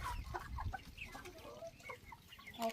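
Chicks and hens cluck softly and irregularly while pecking at feed on the ground, short faint calls scattered close by.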